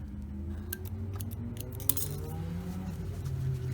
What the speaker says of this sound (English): And we'll trim our threads.